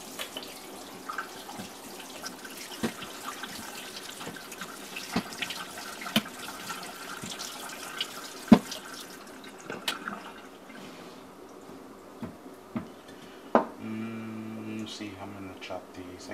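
Tap water runs steadily into a sink while potatoes are rinsed for chorizo burritos, a constant close splashing stream with occasional clunks and knocks.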